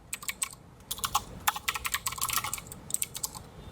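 Typing on a computer keyboard while writing HTML code, with quick irregular bursts of light key clicks and short pauses, close and fairly quiet.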